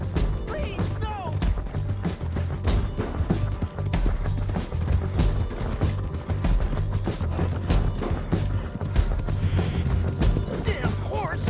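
A horse gallops in Red Dead Redemption 2 with rapid, close hoofbeats over a loud, busy mix of clatter, crashes and mechanical noise. Voices are heard now and then.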